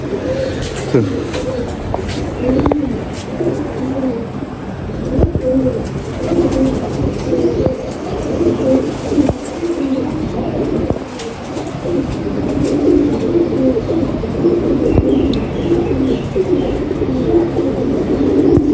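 Ferozpuri pigeons coo repeatedly in a low, rolling murmur that runs the whole way through, with scattered rustles and a faint voice now and then.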